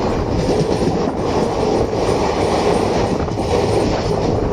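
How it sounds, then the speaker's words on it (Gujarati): The Tirupati Superfast Express rolls past close by with a continuous loud roar and rhythmic clatter of wheels on rails. "તિરુપતિ સુપરફાસ્ટ એક્સપ્રેસ ઓખા સુધી જવાની ટ્રેન"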